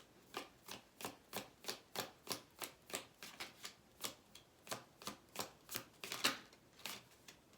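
Tarot cards being shuffled and pulled, a faint, close run of about twenty crisp, evenly spaced riffles and snaps, alone with no talk.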